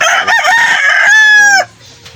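A rooster crows loudly and close by, one full drawn-out cock-a-doodle-doo that rises, holds, and cuts off abruptly.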